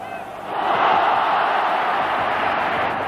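A large crowd at a Valencia football stadium roars and applauds after a goal, a broad, sustained wash of cheering that swells after the first half-second and holds steady and loud.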